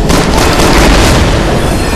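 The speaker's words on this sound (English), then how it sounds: "Fucking laser fire." Laser fire in the Resident Evil 6 video game, a loud, dense, continuous blast of crackling noise that fills the whole stretch without a break.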